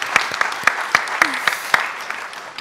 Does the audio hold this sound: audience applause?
yes